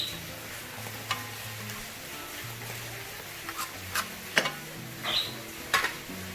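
Spice paste with turmeric sautéing in a pan: a soft sizzle under scraping stirs, with several sharp spoon clicks and taps against the pan growing more frequent toward the end.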